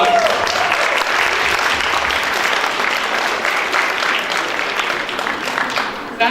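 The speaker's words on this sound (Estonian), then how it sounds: "Aplaus!" Audience at a Viljandi primary schools' fashion show applauding steadily, a dense, loud wash of clapping that holds evenly for several seconds before easing slightly at the end.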